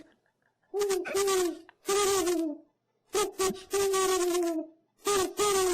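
A human voice imitates an owl, producing a series of loud, close hooting calls in three bursts, each made of several rounded hoots with brief pauses between them, and no other sound accompanies it.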